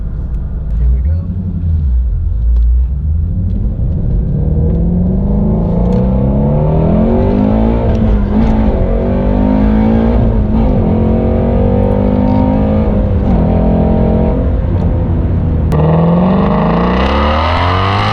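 A 2019 Shelby GT350R's 5.2-liter flat-plane-crank V8 revs hard through an open exhaust, a deep loud rumble climbing and falling in pitch as it accelerates, close and continuous.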